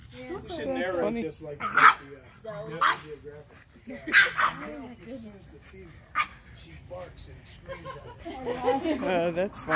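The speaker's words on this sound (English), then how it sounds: "She barks and screams at us." Boston terriers bark, yip and whimper in short, excited bursts close by, mixed with people talking and laughing.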